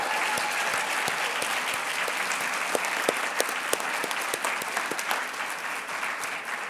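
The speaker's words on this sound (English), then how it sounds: "Let's have a round of applause for all of these recipients." An audience at a university honors ceremony applauds the Chancellor's Award recipients, a steady wash of clapping from many hands with a few sharper individual claps standing out, sustained and fairly loud throughout.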